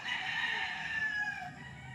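A gamecock's long crow rings out, moderately loud and slightly distant, on a farm near Nagcarlan, Philippines, stretching across the whole moment before trailing off.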